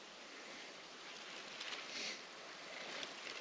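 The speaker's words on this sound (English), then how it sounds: "I'm right beside the creek right there." Creek water flowing beside a cold-morning bushcraft camp in Alabama's mountains, a steady broad hiss with no talking, near and constant, swelling slightly midway.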